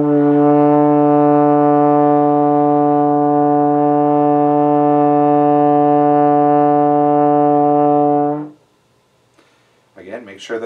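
Brass instrument holds one long, loud, steady practice tone for about eight seconds before cutting off, then brief faint sounds follow.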